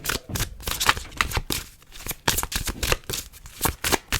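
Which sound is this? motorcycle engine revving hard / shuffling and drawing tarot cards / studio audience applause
shuffling and drawing tarot cards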